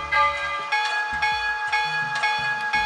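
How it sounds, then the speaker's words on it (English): A SoundTraxx model railroad steam sound decoder rings a medium-toned steam locomotive bell set as an air ringer, sounding a steady series of clear metallic strikes about twice per second. "There's a good, nice medium tone bell that's set up as a rare air ringer."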